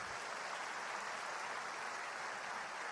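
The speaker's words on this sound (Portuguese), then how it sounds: "Quem está comigo, dá um aplauso bem forte ao Senhor." A church congregation applauds the Lord together, a dense, steady wash of clapping that holds evenly from start to finish without any voices breaking through.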